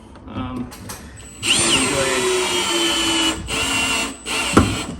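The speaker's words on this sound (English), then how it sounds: "Screw those down until they stop." A power drill drives screws into the ceiling of a corner sauna during installation, whirring in loud sustained bursts with short pauses between them, close by and with no talk over it.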